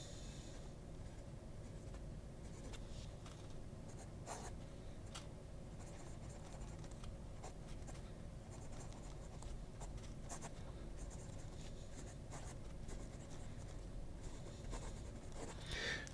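A Ranga Splendor fountain pen with a broad No. 8 nib scratches faintly across paper in short, irregular strokes, close and very quiet against a low background hiss.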